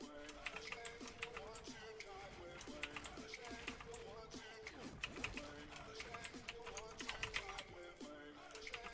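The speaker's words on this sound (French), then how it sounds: "Désolé pour le bruit du clavier." Rapid computer keyboard typing, a dense run of clicky keystrokes close to the microphone that continues steadily with a voice talking over it.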